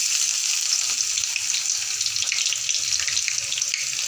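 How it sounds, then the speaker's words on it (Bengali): Chopped onions with cumin frying in oil, a dense continuous bright sizzle that holds steady and loud throughout with no voices. "পেঁয়াজটা আমি হালকা ভেজে নিচ্ছি।"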